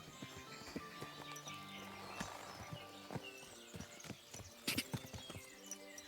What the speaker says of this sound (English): we might as well get on the horse